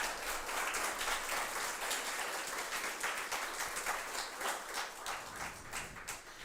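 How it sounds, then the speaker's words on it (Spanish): A church congregation claps during a Spanish-language sermon service, a fairly faint but steady crowd applause throughout, heard as a distant roomy wash without speech. "dele fuerte ese aplauso al Señor"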